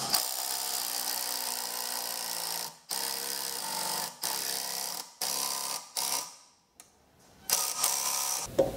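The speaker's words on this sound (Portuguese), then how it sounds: "Faça uma pressão com uma mão e aperte o parafuso com a outra." Power drill driving a screw into the base of a hairpin table leg, a steady loud whirring motor in several bursts separated by brief pauses, with no talking.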